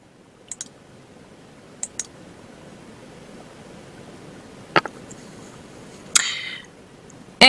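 Sparse computer mouse clicks, a few single and double taps spread over several seconds, close and fairly quiet over a low background hiss, with a louder click burst near the end.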